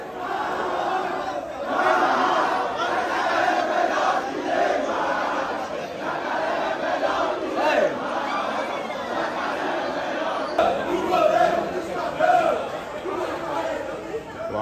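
Bahia football supporters pack an airport, and their dense crowd noise and chanting run throughout with constant chatter and voices.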